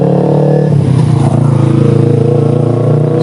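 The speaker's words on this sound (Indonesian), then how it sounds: "sorry ada motor lewat. Nah, knalpotnya kenceng soalnya." A motorcycle with a loud exhaust passes close on a street, its engine drone swelling and holding steady throughout, strong and continuous.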